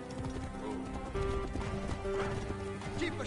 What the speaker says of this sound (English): I'll call my own horse.